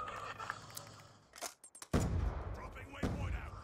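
Sniper rifle fire in Call of Duty, using a Ballista with a fast mag: a couple of sharp, booming shots with rumbling tails over quieter in-game sounds, with no talk.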